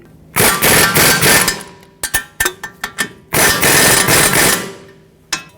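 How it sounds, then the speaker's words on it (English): Bolts on a 2012-2019 Fiat 500 front wheel knuckle being tightened with a 15mm socket and 17mm wrench, loud and close: a long metallic burst, a run of sharp separate clanks, then another sustained burst. "Tighten up the bolts, 15mm socket,"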